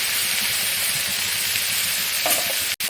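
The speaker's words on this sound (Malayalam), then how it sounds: "നമുക്കിനി ഇതിലേക്ക് ബാക്കി പച്ചക്കറി ഇട്ട് കൊടുക്കാം" Vegetables for a vegetable biryani hit a pan of sautéed onions and fry with a steady, loud sizzle and hiss, with faint stirring scrapes and a brief clink near the end.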